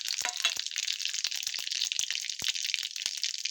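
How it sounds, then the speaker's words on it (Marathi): Mustard seeds and cumin dropped into hot oil give a bright, close sizzle with rapid scattered crackles and pops. The sound stays steady and busy throughout, with no talking. "आता तेल गरम झालेलं आहे, आपण त्यात चम्मचभर राई मोहरी टाकून घ्यायची आहे।"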